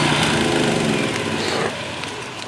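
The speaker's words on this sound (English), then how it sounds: "You can hear that generator beginning to starve." A small generator engine drones steadily, then its pitch and loudness drop abruptly partway through as it sputters and weakens, running out of fuel.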